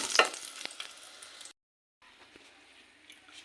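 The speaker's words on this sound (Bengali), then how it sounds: "দেখেন কুমড়ো বড়িটা কিন্তু আমি ঠিকঠাক মতো ভেজে নিচ্ছি" Pumpkin lentil dumplings (kumro bori) frying in oil in a pan, a soft close sizzle with light stirring scrapes that cuts out briefly and then resumes more quietly, with no one talking.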